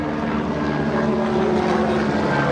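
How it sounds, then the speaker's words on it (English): Steady low rotor drone of a helicopter passing overhead at an outdoor car show, a constant throbbing engine hum at moderate loudness with no talking. "Wait until a helicopter goes over."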